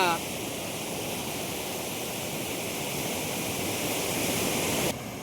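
Water flows in a village canal with a steady, close rushing wash that builds slightly before a short drop near the end.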